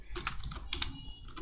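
Computer keyboard keys tapped in a quick burst of separate clicks, several strokes close together, near and clear with no talk, as a keyboard shortcut is entered in a spreadsheet.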